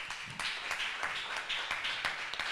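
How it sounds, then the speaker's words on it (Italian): Studio audience on a live Italian TV broadcast clapping steadily, a continuous wash of applause throughout with no voices over it. "spero... un applauso."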